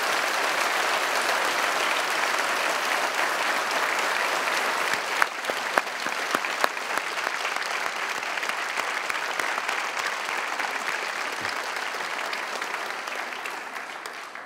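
Steady, sustained applause from a large audience goes on for about fifteen seconds without a break, with a few sharper individual claps standing out.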